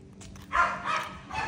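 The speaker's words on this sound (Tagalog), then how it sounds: "Calbi, may aso!" A few short dog barks and yips at moderate distance, three quick bursts over quiet background.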